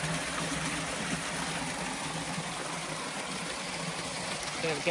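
Water pours steadily over Lichfield Falls on a canal, a broad, constant rushing close by with a faint murmur of talk beneath it.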